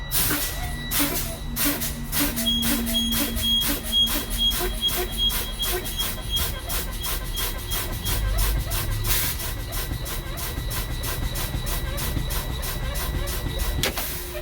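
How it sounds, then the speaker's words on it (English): Air brakes on a truck are pumped during a CDL pre-trip brake test inside the cab, giving repeated rhythmic hisses and clicks of releasing air, with a steady tone and a final sharp burst near the end. "So I'm pumping my brake."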